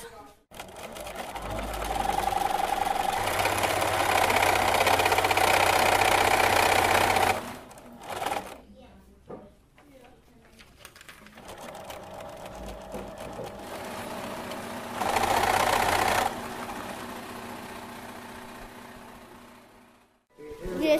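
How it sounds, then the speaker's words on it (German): Many sewing machines run in a room full of children, their rapid mechanical whirring coming in long loud bursts that stop and restart, with voices talking in between. "stehen hier viele Nähmaschinen und viele Kinder"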